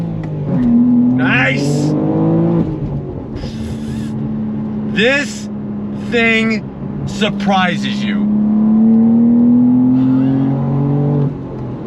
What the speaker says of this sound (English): But you're getting plenty of real sound coming out of that exhaust. It really comes on strong.